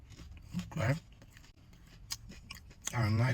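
Crunchy bites of a pina colada bowl with steak, rice, corn and pineapple being chewed up close, a few sharp crisp crunches between softer munching, with a voice speaking briefly near the start and end.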